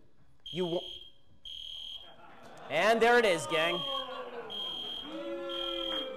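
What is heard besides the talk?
fire alarm ringing in a building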